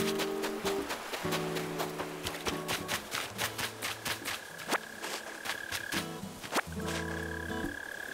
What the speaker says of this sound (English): I always hear these crickets next to these trees.